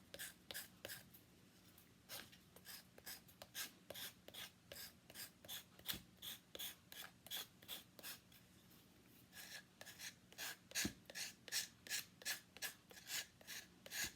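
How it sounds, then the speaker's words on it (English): Sandpaper rasps over a small wooden carrot in quick, even back-and-forth strokes, dozens of close, dry scratches with a brief pause midway. "And then I go in and fine tune it with the sandpaper."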